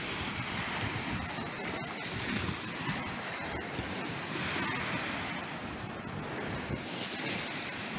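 Gentle sea waves lap steadily at North Shore, Blackpool near North Pier, a continuous broadband wash of surf with wind noise buffeting the microphone throughout, fairly close and unbroken, with no talk.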